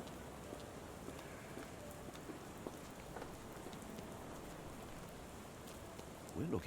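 Steady rain falls in a Victorian street scene in the video game Sherlock Holmes The Awakened, a soft continuous hiss with faint patter, low and even throughout, then a brief louder rustle near the end.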